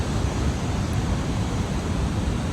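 Floodwater flowing at Lake Malone in western Kentucky, a dense steady rushing roar with wind-like noise that keeps on without a break.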